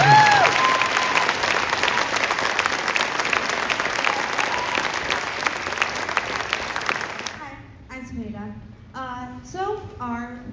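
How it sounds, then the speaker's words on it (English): An audience at a school spring concert applauds the band with sustained, dense clapping that fades after several seconds, and then a voice begins speaking over the quieter room. "Can we give a special applause for our great band?"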